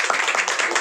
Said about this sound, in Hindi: ताली लगाइए इनके लिए, ताली बजाइए